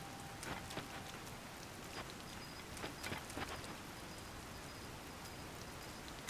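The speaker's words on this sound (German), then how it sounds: "Kann das jetzt mal aufhören zu regnen?" Steady rain falls in the video game Zelda: Tears of the Kingdom, a soft continuous patter with scattered louder drops, heard alone at low level.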